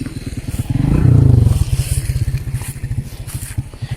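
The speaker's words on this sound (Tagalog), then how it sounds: "May motor, mga kalangga." A motorcycle passes along a rural path: its pulsing engine note swells loudly as it comes close, peaks, then fades, with the throbbing firing rhythm continuing more faintly afterward.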